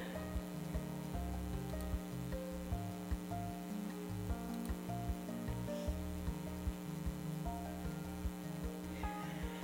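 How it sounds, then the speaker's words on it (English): Steady, dense rain patter with a sizzling hiss, continuous and fairly close, with no voices over it. "It's raining out like a monster!"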